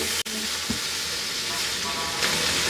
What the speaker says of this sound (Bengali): বেগুনগুলোকে বাদামি করে ভেজে নিব